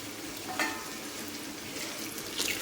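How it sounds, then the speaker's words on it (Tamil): Raw green banana slices frying in hot oil until crisp, giving a steady close sizzle with a couple of brief stirring scrapes and no voices. "வாழைக்காய் மொறு மொறுன்னு வரணும். அந்த அளவுக்கு ஃப்ரை பண்ணி எடுத்துக்கோங்க"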